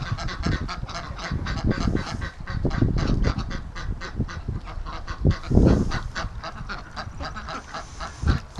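Ducks honk and quack repeatedly nearby, overlapping calls in an uneven, busy chorus.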